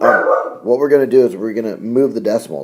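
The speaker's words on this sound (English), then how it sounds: "sorry about the dogs" A dog barks and yips in the background while a person speaks steadily over it, the barking partly masked by the voice.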